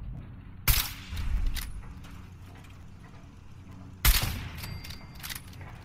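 Turret gunfire in Fallout 4, heard as two sharp, loud bursts a few seconds apart, each followed by rumbling, clattering mechanical noise and a lingering low-end tail.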